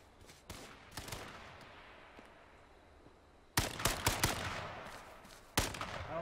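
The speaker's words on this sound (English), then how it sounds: "They're shooting at me." Gunfire in the battle royale game H1Z1: sharp bursts of shots, a few early and scattered, then loud clustered volleys near the end, with no talk over them.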